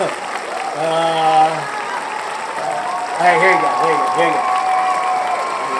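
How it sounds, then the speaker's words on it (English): Applause sound effect, steady loud clapping and crowd noise running throughout while people talk over it. "That's applause."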